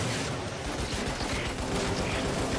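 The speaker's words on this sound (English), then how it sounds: "I guess machine gun is my best weapon now" A machine gun fires in Lost Planet: Extreme Condition as a rapid, continuous burst of close, loud shots, a steady rattling fusillade layered over dense game noise.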